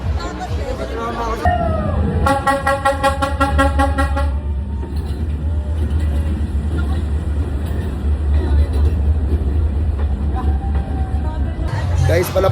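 A train passes close by in Vietnam, its horn sounding in a loud sustained toot before the steady rumble of the railcars rolls on, with people talking nearby.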